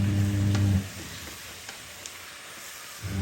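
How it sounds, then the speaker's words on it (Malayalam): Onions and tomatoes stirred and frying in a pan while making prawn biryani: a loud, close sizzle at first that drops to a softer crackling fry with faint spoon scrapes, no voices. "രണ്ടും കൂടി നല്ലോണം ഒന്ന് മിക്സാക്കി കൊടുക്കാം"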